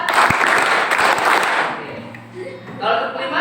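A burst of dense group hand clapping in a classroom coaching session, the counted four-clap rhythm blurring into a wash of applause before fading under soft voices.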